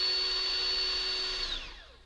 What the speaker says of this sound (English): Careful you don't go too far through because you don't want to drill into the top of the wing.